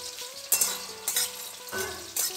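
Dry whole spices lightly roasting in a kadai, stirred in a few scraping, rustling strokes about half a second apart over a soft background hiss, close and fairly quiet.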